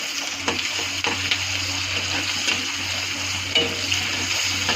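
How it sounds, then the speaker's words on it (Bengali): Chopped onion sizzling in hot oil in a pan with steady crackling frying hiss, broken by occasional scraping knocks of a spoon as the pieces are stirred, fairly close and with no talk. "একটা পেঁয়াজ কুচি ছেড়ে দেবো। একটু ভালো করে নাড়াচাড়া করবো।"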